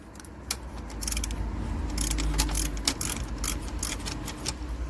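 A ratchet wrench working on the alternator bolts of a BMW, close rapid clicking and metallic clatter in short irregular bursts, with no talking.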